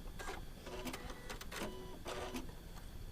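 Faint rapid mechanical stitching bursts from a sewing machine running a quilt seam, short runs of quick clicking with brief pauses between them, heard quietly and close.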